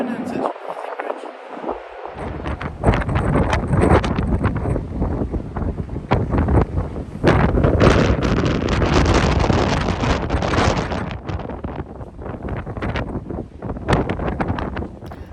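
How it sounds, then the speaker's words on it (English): Strong wind buffeting the microphone on the open deck of a cruise ship near Lisbon, a loud continuous roar with gusty surges throughout, briefly dropping out near the start. "As you can hear from the wind and that video that I just put on just now, it's quite windy out there"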